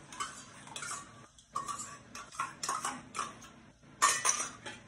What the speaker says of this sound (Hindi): अच्छे से मसाले में दही को मिला देंगे कि दही फटे नहीं।